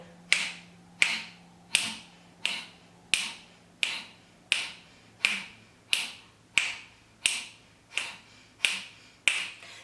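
Kapalabhati breathing: about thirteen sharp, forceful exhalations through the nose, evenly spaced under a second apart, each a short close burst of air that fades quickly, with no speech.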